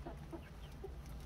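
A brown hen on a small hobby farm clucks softly a few times, faint and short against a low background hum.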